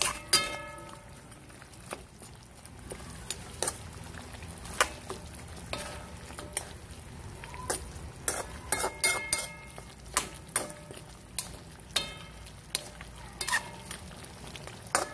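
A spoon stirs pork ribs with tomato paste and cassava sizzling in a pan, with repeated scraping clinks against the metal over a steady close frying hiss.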